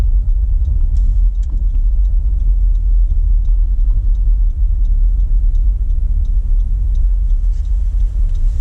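Steady road rumble from a car driving through Canton, Michigan and making a left turn onto Hanford, a continuous low engine and tyre drone with no voices, holding close and even throughout.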